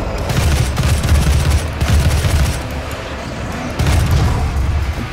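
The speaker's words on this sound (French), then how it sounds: "Fusil d'assaut, ça tire, c'est tout." Assault rifle fire in the video game Doom: loud, dense bursts of rapid gunshots with booming low-end impacts, nearly continuous with brief dips between volleys.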